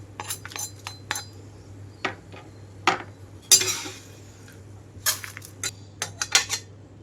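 Roasted toor dal and other chutney ingredients being moved from a pan onto a plate, with scattered metal spoon scrapes and sharp clinks against the dishware, some close and bright, spaced irregularly over several seconds.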